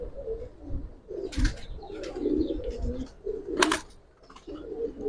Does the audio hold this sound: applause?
no